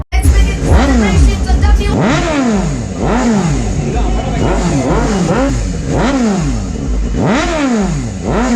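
A motorcycle being ridden in wheelie stunts revs hard and close, its engine note swooping up and down in a repeated rhythm about once a second, loud and continuous.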